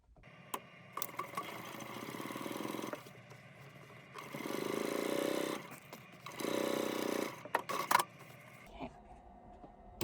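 A sewing machine top-stitches along the bottom seam of a handbag in several whirring bursts of a few seconds each, separated by short quiet pauses and small handling clicks, close and clear.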